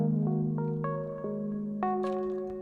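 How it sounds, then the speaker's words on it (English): A Rhodes-style electric piano patch on a Novation Summit synthesizer plays a short run of mellow, bell-like notes that ring on and overlap, soft and clean with no talking. "I searched for a Rhodes sound like a keyboard"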